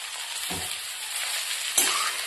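Boiled chickpeas and peas fry with chow mein in a pan, making a steady soft sizzle, with two short stirring scrapes and clatters against the pan and no voices.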